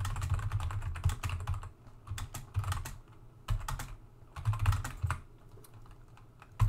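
Someone types on a computer keyboard while editing text in Vim, with close, crisp keystrokes in quick bursts and short pauses between runs.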